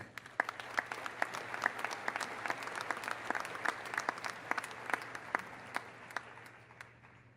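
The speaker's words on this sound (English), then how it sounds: "Let's give a round of applause for our incredible advisors." A university commencement audience at UW Parkside applauds steadily for the advisors, a fairly distant wash of many clapping hands with sharper individual claps standing out, continuing throughout without speech.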